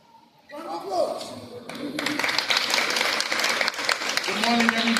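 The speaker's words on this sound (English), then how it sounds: "Round of applause" Applause at a school board and city tennis event, with many hands clapping in a dense, steady patter that swells after a quiet start and carries on through the stretch while voices murmur underneath.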